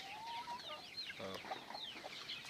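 Rhode Island Red chickens in a coop give soft, intermittent clucks and short chirps, with one brief louder squawk partway through, all close by over a steady background hiss.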